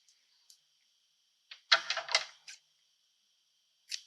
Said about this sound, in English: let's go ahead and cut some ribbon